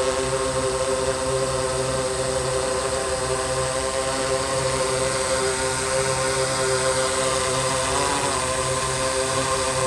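A DJI S800 multirotor drone hovers down to land, a loud steady whine of its spinning propellers with layered humming tones throughout, close and unbroken, no voices.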